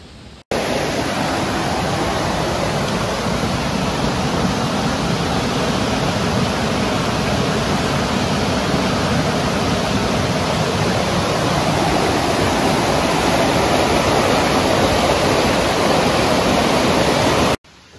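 Creek water flows just off a roadside in a limestone area, a steady broadband rush that is close and constant from start to finish, with no voices.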